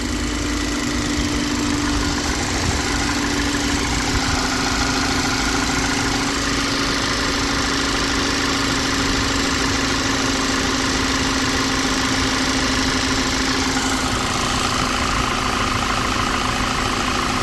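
A 2016 Volkswagen Tiguan engine idles steadily up close, a constant low rumble with a faint rough vibration and a slight shake, no voices.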